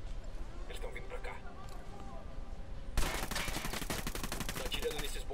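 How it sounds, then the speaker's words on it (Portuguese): Rapid gunfire from shooting enemies in Ghost Recon Wildlands breaks out loudly midway, dense repeated shots after a quieter stretch of game ambience and faint voices. "Tô atirando nesses bostas."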